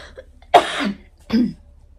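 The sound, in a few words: cough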